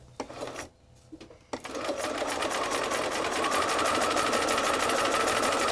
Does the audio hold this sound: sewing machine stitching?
yes